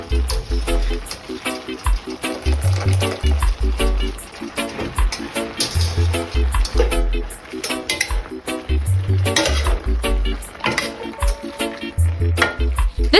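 Al dente pasta cooks in a pan of hot sauce, giving a steady bubbling sizzle while being stirred, with music running underneath.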